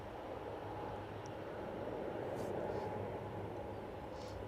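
Aircraft departing Manchester Airport, a faint, distant broad jet roar holding steady across the whole stretch with no speech.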